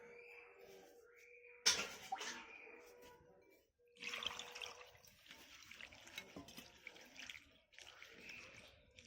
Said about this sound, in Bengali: তবু আরেকবার ধুয়ে নেব পরিষ্কার করে